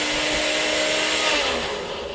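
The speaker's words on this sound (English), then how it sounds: "seal this up, and on the blender." A kitchen blender grinds dried moss in a steady, loud, high-pitched whir that runs without a break and eases slightly toward the end.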